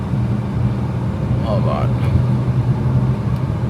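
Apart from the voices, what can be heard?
car engine while downshifting gears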